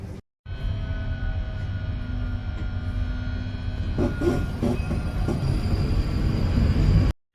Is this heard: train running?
yes